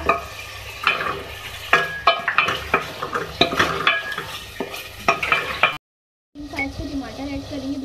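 Whole spices frying in oil, cinnamon, cardamom, cloves, cumin and bay leaves, with busy stirring, clinks of a spoon on the pot and sizzling, a brief silent cut, then steadier frying resumes.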